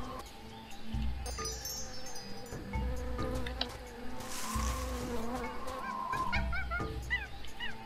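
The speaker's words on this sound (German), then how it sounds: "Dieser Dschungel ist echt laut." Loud jungle ambience in Tales of Monkey Island, with buzzing insects, honking bird calls and chirps layered over recurring low pulses, busy and close throughout.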